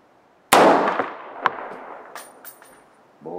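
A Windham Weaponry AR10 .308 rifle with a 3-12x40 scope, fired at 100 yards in snow, gives one loud, close, sharp crack with a long echoing decay. A fainter report follows about a second later, then a few softer distant cracks.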